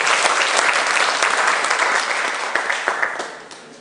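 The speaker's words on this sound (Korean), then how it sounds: "많은 수고해주신 박경원 과장님과 관계자분들께 다시 한번 박수 부탁드리겠습니다" An auditorium audience at an agricultural ICT event applauds a section chief and staff, loud sustained clapping with sharp individual claps standing out as it thins toward the end.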